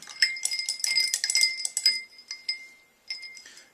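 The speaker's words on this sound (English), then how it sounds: "Keep on stirring, keep on putting ice in here." Ice clinks and rattles against the sides of a glass beaker while it is being stirred, with bright, close, irregular clinks in quick bursts and a brief pause before a few more.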